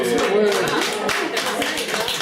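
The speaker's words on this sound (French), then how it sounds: "Bravo, on l'applaudit, s'il vous plaît." Wedding guests at a ceremony in Sainte-Émilie-de-l'Énergie applaud in a sustained, dense patter of many hands, with a voice talking over the clapping.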